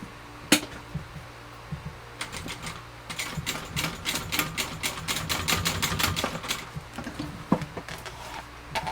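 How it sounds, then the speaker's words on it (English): A sewing machine bastes backpack pieces together, running in quick rhythmic stitching bursts with short pauses between, close and fairly loud in a quiet room. "then we're going to baste them together so they cannot move"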